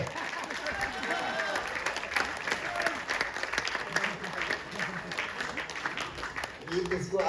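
Audience clapping at a company announcement event to welcome top-tier members, steady dense applause with crowd murmur and voices speaking beneath it, fairly faint and continuous.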